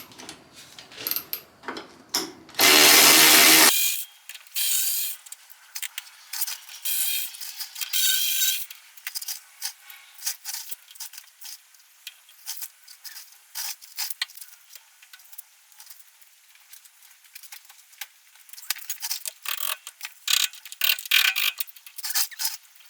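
A ratchet works loose the sway bar bushings on a car, a close series of irregular clicking bursts, with a louder mechanical clunk near the start and quiet gaps between runs of ratcheting.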